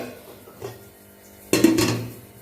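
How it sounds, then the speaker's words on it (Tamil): A metal idli steamer pot is set up and its lid placed on, giving a soft clink followed by a sharper, louder metallic clatter of the lid closing. The setting is a home kitchen, with no talking. "இந்த மாதிரி இட்லி பாத்திரத்தில் வச்சு மூடி வச்சு"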